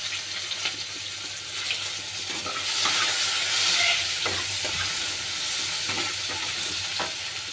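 Fish frying in fish oil for a jhal gives a steady, close sizzle with occasional stirring scrapes and light splashes, no voices.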